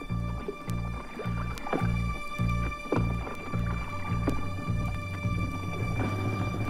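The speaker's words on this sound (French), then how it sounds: "prennent la mer en ramant fort, vite et silencieusement" A canoe is paddled through water in quick, regular strokes, each giving a low splashing thump in a steady rhythm.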